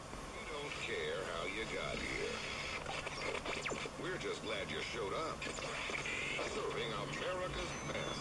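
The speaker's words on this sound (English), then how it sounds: "this is a sound purely generated by the vacuum tube" A 1U5 diode-pentode vacuum tube radio plays through an external speaker, steady and full, with voices and music-like tones mixed in static-tinged broadcast sound.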